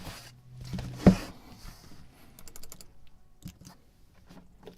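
Computer keyboard keys clatter in quick, light clusters at low level, with a louder knock near the start and faint background noise.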